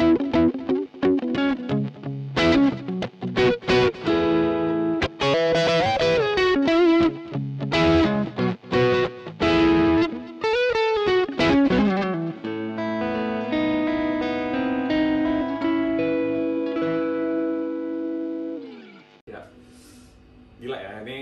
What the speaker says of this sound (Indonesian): Yang kali ini kita coba untuk neck pickup dulu.